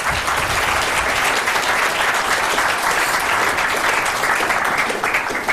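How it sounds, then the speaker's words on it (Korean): A lecture audience at the Harvard Kennedy School in 1997 applauds in a thick, even roar that holds at a steady loudness for the whole stretch, with no voices on top. "박수 한번 보내주시기 바랍니다"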